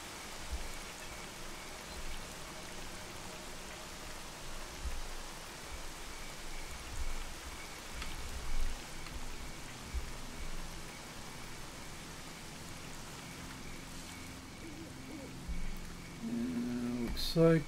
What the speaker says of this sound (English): the rain's really picking up